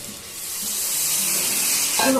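Spice-washing water poured from a grinder jar into a pan of frozen spicy chicken, giving a loud, continuous rushing splash that swells slightly and ends with a brief hiss.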